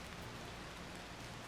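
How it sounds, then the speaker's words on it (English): Heavy rain pours steadily onto a hiking trail, a dense, unbroken hiss of drops close by with no voices. "It is pouring down rain over here,"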